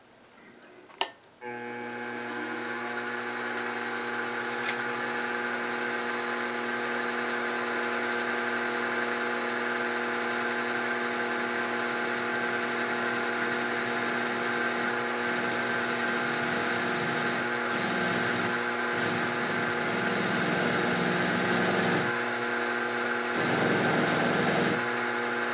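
Metal lathe running while a stub drill spots a hole in a chuck backplate, a steady machine hum with a constant tone and occasional scraping bursts of cutting noise, close and continuous for the whole stretch, no talking.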